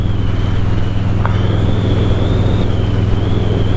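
A motorcycle being ridden, a loud steady engine hum with a low throbbing drone and a faint whining tone above it, heard close and continuous.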